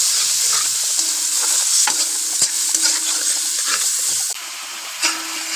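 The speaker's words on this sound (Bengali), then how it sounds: "চিনি, লঙ্কার গুঁড়ো দিলাম। সামান্য জল দিয়ে কষিয়ে নেব।" Spices with salt, sugar and chilli powder sizzle and fry in a splash of water for biryani masala, a steady loud hiss with occasional stirring scrapes throughout.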